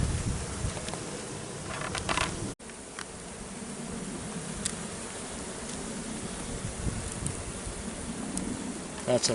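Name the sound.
honey bees buzzing at hive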